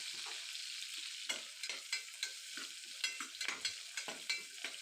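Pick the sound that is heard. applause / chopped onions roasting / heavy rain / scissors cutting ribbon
chopped onions roasting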